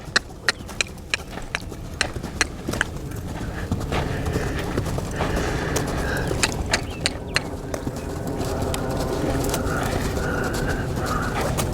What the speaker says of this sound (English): he's willing to maintain that lope for a while